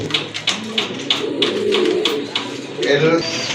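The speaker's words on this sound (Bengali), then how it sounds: "আরেক জোড়া কবুতর। এটা হচ্ছে ইন্ডিয়ান বোম্বাই কবুতর" Indian Bombay pigeons coo in low, throaty bursts close by, overlapping with short sharp taps and rustles.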